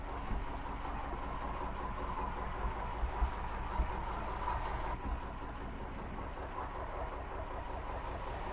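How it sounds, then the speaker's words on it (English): A train passes in the distance beside a canal, a faint steady rumble with a few soft clicks of wheels on rail, heard alone with no voices. "Missed the train. I'm sure you heard it though."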